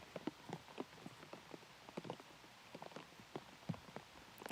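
Steady rain falls on a disc golf course during tropical storm weather, a faint, irregular patter of drops striking surfaces, scattered taps over a soft hiss with no voices.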